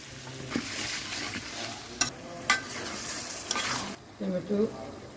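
Tomatoes sauté in a pan with a soft continuous sizzle, punctuated by several sharp scraping stirs and clanks of a spoon, followed by a brief bubbling burst near the end.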